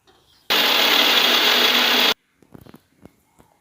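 A mixer grinder whirring loudly for about two seconds as it grinds dried red chillies into fine powder, starting and stopping abruptly, followed by soft clinks and handling sounds of the jar.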